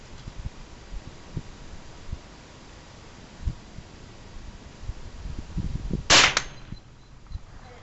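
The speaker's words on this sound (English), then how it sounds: "You shoot it again?" A single sharp gunshot at an outdoor shooting range, loud and near, cracking out after several seconds of quiet ambient noise with faint low thumps.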